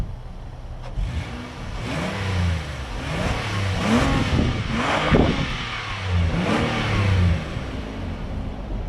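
A 2010 Nissan Maxima 3.5 sedan with dual exhausts tucked under each side, a mid-pitched engine note rising and falling through several revs, close and steady with no talk.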